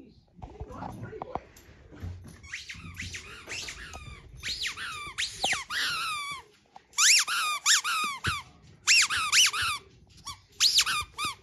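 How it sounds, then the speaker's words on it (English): A dog works a squeaky toy, making repeated bursts of high squeaks in uneven rhythm. The squeaks are close and loud, with soft indoor noise and brief voices early on. "Jazzy, come here, squeak it."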